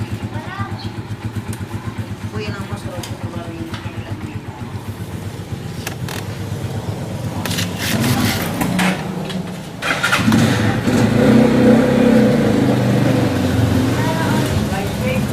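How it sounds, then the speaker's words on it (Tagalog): A Yamaha Sniper 150 motorcycle fitted with an SC Project open exhaust pipe runs close by with a steady, pulsing idle, then revs up louder and rougher in the second half. "Papakita ko lang po yung install namin na SC Project open pipe sa ating Sniper 150."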